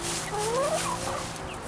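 Garden poultry call out in a short burst of rapid gobbling, clucking sounds, fairly close over a steady outdoor background hiss.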